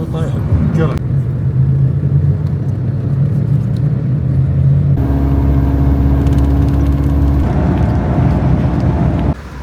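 Bus engine rumbling steadily on a cramped ride to Jerash in Jordan, a low continuous drone whose tone shifts midway as the gear changes, loud and close.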